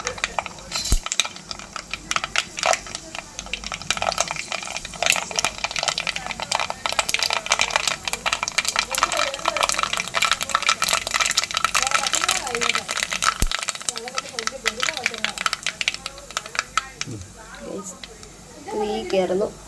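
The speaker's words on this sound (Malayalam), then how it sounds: "എണ്ണ ചൂടായിട്ടുണ്ട്. നമ്മൾ കടുക് ഇടുവാണ്." Mustard seeds splutter in about three tablespoons of hot oil: a dense, continuous crackle of sharp pops and rattles, fairly close, with a voice talking over much of it.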